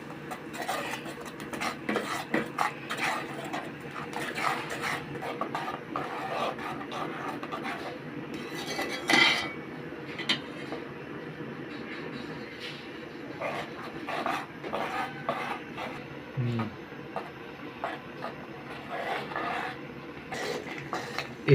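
Hilsa fish mustard masala being stirred in a pan, with repeated close scraping and clinking of a spatula against metal over a low frying hiss.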